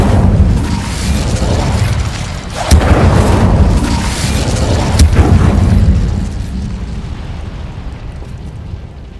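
Booming, rumbling bursts of fire from the Incendio spell in a Harry Potter video game, with two sharp cracks inside a loud, churning roar that fades near the end.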